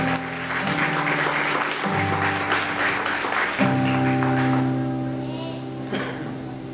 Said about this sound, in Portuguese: Nós podemos aplaudir a Deus pela vida do nosso professor.